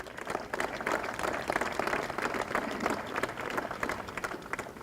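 Applause and clapping from a crowd at an outdoor community rally against drug abuse, a steady dense patter of many hands lasting throughout at moderate distance, with no one speaking over it.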